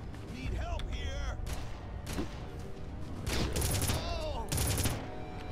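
Gunfire from a gun in the video game Red Faction, several loud bursts of shots with mechanical clanks between them and people talking over the action.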